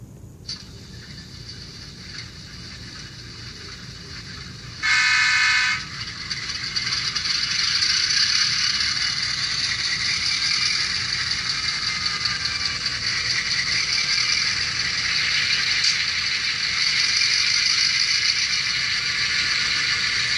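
An Athearn Genesis GP7u HO model diesel locomotive starting up and throttling to notch 10, with a brief loud start-up burst followed by a steady droning engine rumble that grows and holds with faint rattling, close and alone.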